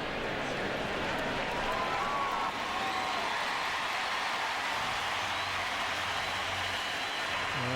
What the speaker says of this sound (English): You can hear the crowd in the ballpark reacting as they just showed the replay on the big board